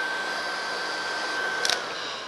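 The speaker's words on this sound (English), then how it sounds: "So the hair dryer is a good tool for watercolor painters" Hair dryer blowing air over a watercolor painting, a steady even whoosh with a faint whine running throughout and a brief click near the end.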